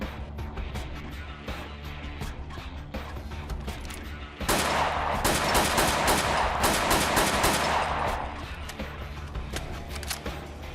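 A Type 89 rifle fires in Fallout 4, a modded video game: a dense burst of rapid automatic gunfire lasts about four seconds over a quieter backdrop of game ambience.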